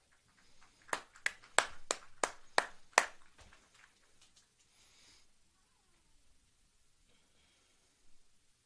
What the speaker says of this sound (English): thanking them with a warm round of applause